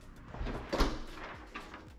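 A house door swings shut in a Florida home for sale, giving a single soft thud near the middle of the clip over low room noise, with no talking.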